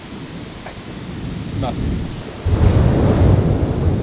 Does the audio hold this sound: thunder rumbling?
yes